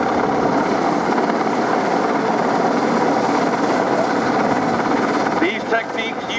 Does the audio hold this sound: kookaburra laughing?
no